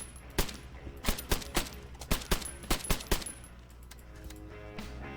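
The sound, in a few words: weapon firing at low rate in video game Arma 3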